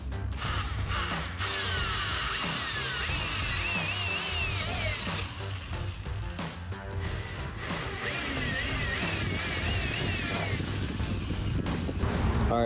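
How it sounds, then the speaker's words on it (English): A power drill whines steadily and loudly for the whole stretch, its pitch rising and falling as it bites, with clunks and mechanical noise around it. "you just want to be kind of careful just because you don't want to drill too far in"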